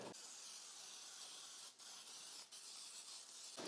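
A cooking spray can hisses steadily onto a pan being greased for cheesy pancake batter with sausage and maple syrup, a continuous close spray broken by two short pauses, with no talking.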